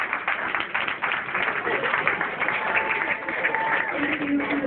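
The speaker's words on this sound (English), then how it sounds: "a big round of applause to them" Audience applause at a cafe event, a dense steady wash of clapping lasting throughout with crowd noise mixed in.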